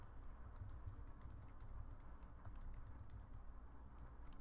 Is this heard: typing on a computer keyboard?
yes